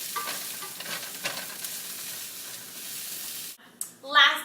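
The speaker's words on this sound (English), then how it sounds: "You can tell that the garlic and the onions are browning up very nicely." Garlic and onions browning in a pan give a steady, close hissing sizzle with intermittent stirring scrapes, then the sizzle cuts out briefly before a short voice is heard at the end.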